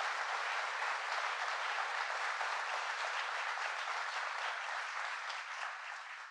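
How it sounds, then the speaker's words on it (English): Audience applause at an IBM event with President Biden and the governor of New York, a dense, steady wash of clapping from a large crowd that continues throughout and starts to thin at the very end. "So please, give her a round of applause."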